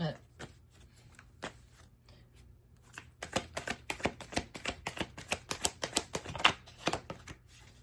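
Tarot cards are shuffled in quick, crisp riffling bursts, sparse at first and then a rapid flurry of snaps close by.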